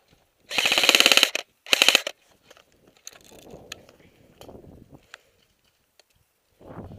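Airsoft guns firing during a game, with two loud rapid bursts of automatic fire up close, followed by quieter scattered shots, footsteps and movement, and another burst starting at the end.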